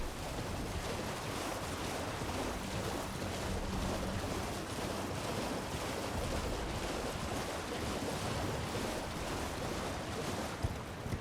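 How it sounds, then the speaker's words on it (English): Steady broadband rushing of a waterfall in the Elden Ring Shadow of the Erdtree video game, a continuous even roar of falling water that holds at a constant level throughout with no voices. "Here's the waterfall we saw before."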